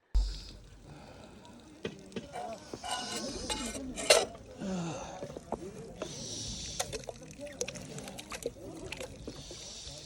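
Metal tiffin box washed by hand in rubber gloves: quiet, irregular clinks and knocks of metal with sloshing water, close by, with a muffled voice at times.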